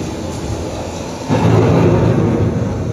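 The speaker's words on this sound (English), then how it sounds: "The approaching storm may seem violent and destructive to us" Rumbling thunder from an approaching storm swells suddenly after a quiet start and rolls on loud and low, with a hiss like rain behind it and no voices.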